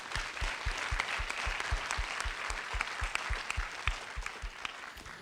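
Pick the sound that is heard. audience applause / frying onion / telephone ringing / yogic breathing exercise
audience applause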